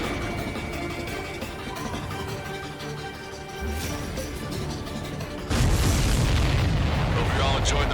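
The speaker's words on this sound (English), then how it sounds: "Missile hit the supply ship dead on." In the video game Ace Combat 7, a missile strikes a supply ship, with a deep booming explosion that swells suddenly into a loud, roaring blast over continuous jet engine noise and game sound.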